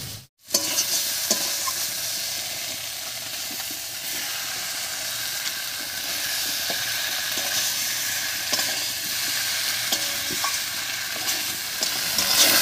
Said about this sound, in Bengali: সব কিছু আরও একটু কষিয়ে নিয়েছি।